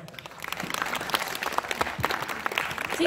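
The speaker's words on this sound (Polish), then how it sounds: "Duże brawa." An audience at a regional youth day in Drawsko Pomorskie applauds a performing group, a moderately loud, uneven patter of clapping with sharper individual claps standing out.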